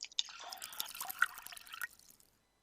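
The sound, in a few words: hot water poured into a cylinder and beakers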